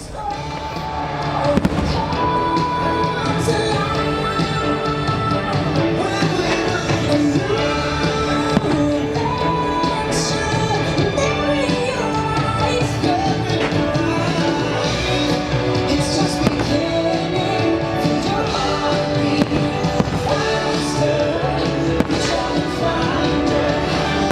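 A fireworks show at Magic Kingdom in Walt Disney World plays as steady, loud orchestral music, with a few sharp bursts of exploding fireworks breaking through the soundtrack across the whole stretch.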